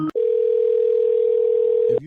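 A steady telephone dial tone sounds loud and unbroken for nearly two seconds as a call is placed, bracketed by brief clicks at the start and end.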